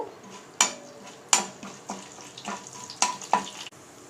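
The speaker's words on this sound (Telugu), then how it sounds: "ఆయిల్ వేడెక్కిన తర్వాత ఇందులోనే ఆయిల్లో తాలింపు దినుసులు అలాగే శనగపప్పు" Tempering spices and chana dal dropped into hot oil in a kadai, with repeated sharp sizzling bursts and clinks of a spoon or pan at close range, no talking.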